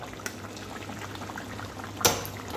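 Fish curry bubbling on a gas stove: a soft, continuous close simmer of bubbles with occasional pops and one louder splashy burst near the end, no voices.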